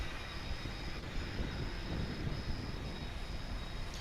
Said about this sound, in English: It's a UPS MD-11